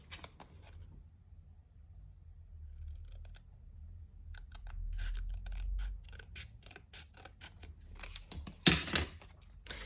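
Scissors trim card for a tuxedo card, giving a series of close, crisp snipping cuts that quicken into rapid clicks, ending with a louder snap, with no talking.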